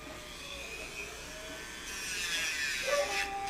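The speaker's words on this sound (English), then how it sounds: "So I'm going to go ahead and use the Dremel." A Dremel rotary tool whirs steadily at a high pitch while grinding a dog's nails, the tone rising and growing louder and rougher toward the end as it contacts the nail, close and continuous.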